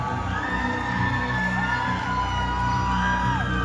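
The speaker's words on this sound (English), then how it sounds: "Come on, let's keep the applause going for top 5." A pageant audience at Miss Universe Jamaica 2024 cheers loudly with whoops and shouts, a dense, sustained roar of many voices.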